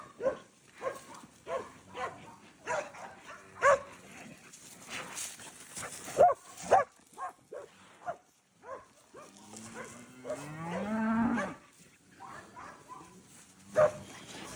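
Cattle in a large pen on a Texas ranch moo while a cow dog works them, with sharp dog barks scattered throughout and one long, loud drawn-out moo near the end.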